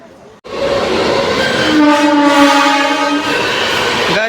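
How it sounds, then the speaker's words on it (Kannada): A train rushes at high speed through an empty railway station in Karnataka: a loud, sustained roar of wheels on rails with a drawn-out horn blast rising midway and fading. "ಇದು ಯಾವುದೋ ಫುಲ್ ಸಕ್ಕ ಸ್ಪೀಡಲ್ಲಿದೆ ಟ್ರೈನು"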